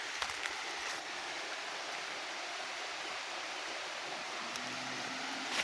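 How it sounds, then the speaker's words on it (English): A hidden waterfall in a village, steady rushing water noise with a constant broadband hiss, heard alone at moderate distance without change. "That is the waterfall, guys,"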